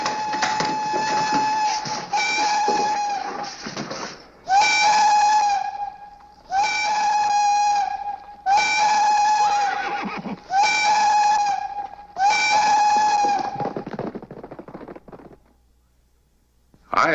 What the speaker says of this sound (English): When the whistle continued, I knew it was an emergency.